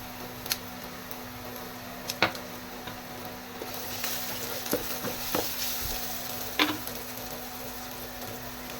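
Garlic and onion sizzle softly in a pan with salt while being stirred, a faint continuous frying hiss broken by occasional light utensil taps and clicks, with no talking.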